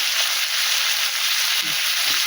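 Cauliflower seasoned with salt and turmeric cooks in a pan with a loud, close, continuous sizzling hiss and soft low stirring bumps underneath, no voices.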